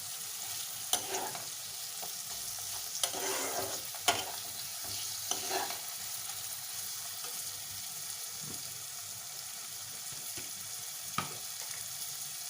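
A large chopped tomato hits a hot pan of ginger and garlic, giving a soft, steady frying hiss with a few scattered spoon clinks and scrapes at a gentle distance.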